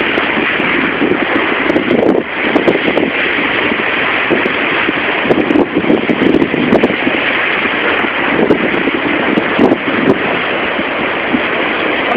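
On a boat ride, wind roars steadily and loudly against the microphone while waves and water rush beneath, a dense continuous wash of sound with no clear talk.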